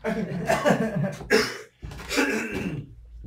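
Several people in an audience cough and clear their throats in bursts, with some chuckling mixed in, close by.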